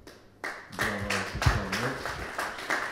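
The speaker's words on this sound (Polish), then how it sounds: "Brawa." Audience clapping at an industry symposium for dairy producers, starting abruptly after a quiet moment and building into steady applause from many hands, with a few low voices mixed in underneath.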